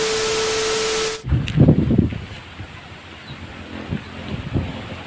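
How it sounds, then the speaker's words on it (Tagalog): Strong typhoon wind gusts in Baguio buffet and roar across the microphone after a brief broadband hiss, rising and falling in low rumbling waves. "tignan nyo naman yung hangin, napakalakas"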